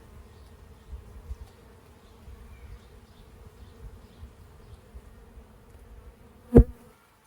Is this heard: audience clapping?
no